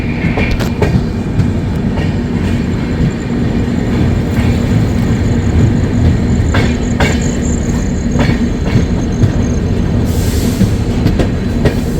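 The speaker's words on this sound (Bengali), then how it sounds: "ওয়ান 2 3 1 3 শিয়ালদা নিউ দিল্লি রাজধানী এক্সপ্রেসের প্রথম হল্ট এলো দুর্গাপুর" The 12313 Sealdah–New Delhi Rajdhani Express reaches its Durgapur halt, heard from on board a 2AC coach as a loud, steady rail rumble with wheel clatter and a thin squeal.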